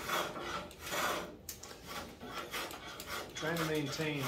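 A spokeshave rasps across wood, shaping a bevel on a wooden guideboat rib. Repeated close scraping strokes come in an uneven rhythm, and someone talks briefly near the end.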